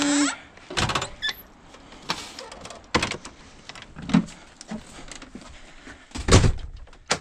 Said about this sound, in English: Okay, I'm gonna hook the door.